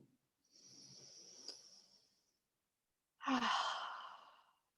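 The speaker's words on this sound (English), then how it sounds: "2 to 3 good deep breaths in." One slow, deep breath is drawn in during a guided relaxation exercise, followed by a fuller, breathy exhale, both close and soft with a pause between.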